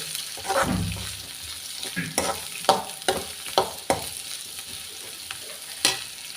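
Bitter gourd fries in a pan for a pickle while a spoon stirs it, giving a steady sizzle under repeated sharp scraping strokes.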